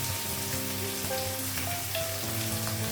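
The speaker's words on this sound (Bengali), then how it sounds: "আলুটা ভাজা হয়ে গেছে" Steady sizzling of potatoes frying in a pan, a constant crackling hiss that stays even throughout.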